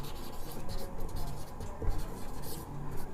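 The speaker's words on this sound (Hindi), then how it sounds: "पहले हम डेफिनेशन लिखते हैं" A pen scratches across paper as a physics definition is written out for a class 12 lesson, soft continuous writing strokes close by with no talking.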